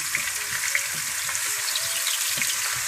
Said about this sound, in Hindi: इसको आप हल्की फ्राई कर लें